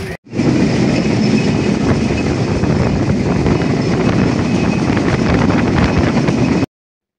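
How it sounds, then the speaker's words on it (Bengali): An intercity train runs just after leaving Phulbari station on the Rangpur to Joypurhat line: a loud, continuous rumble of wheels and carriage with wind rush, heard from on board, steady throughout before cutting off abruptly. "আমাদের ট্রেন এখন ফুলবাড়ি ছেড়ে গেল।"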